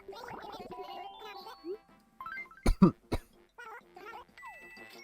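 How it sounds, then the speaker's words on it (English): Several short, sharp coughing bursts from an Animal Crossing: New Leaf character in quick succession amid chirpy electronic game sounds and babbling voice-like blips. "Ah, little coughs."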